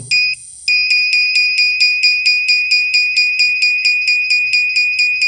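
A loud electronic buzzer, part of a motorcycle touch-switch security circuit and powered from a battery, beeps in rapid, steady pulses, shrill and piercing, after a brief lower tone at the start.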